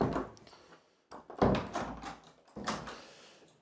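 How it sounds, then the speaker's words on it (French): An apartment door in a top-floor studio of a Haussmann building is pushed shut, with several soft thuds and a firmer knock as it closes, heard close up in a quiet room. "Je vais refermer la porte, on sera plus à l'aise."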